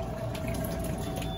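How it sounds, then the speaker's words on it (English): Steady rushing and gurgling of water draining from a spin dryer, a continuous wash of noise with a low hum underneath. "we're already starting to drain some water out of there"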